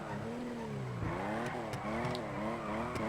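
A car drifting in the FiveM game while the throttle is feathered through small turns: a continuous engine roar whose pitch swoops up and down in repeated waves, with faint tyre squeal and ticking, close and steady.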